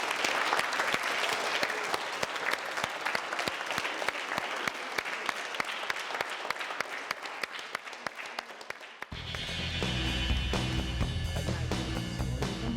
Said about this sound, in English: give them a big round of applause for taking part in that